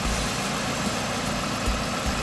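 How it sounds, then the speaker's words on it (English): Steady, droning car engine idling with a constant low vibration and rumble, close and continuous, in a car that stalls when the air conditioning is switched on. "Now, if you look at my engine here, it's vibrating."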